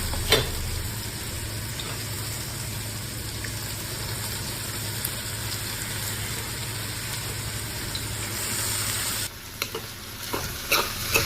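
Poha, flattened rice, fries in a pan with a steady close sizzle while a utensil stirs and scrapes through it, ending in a few sharper clatters.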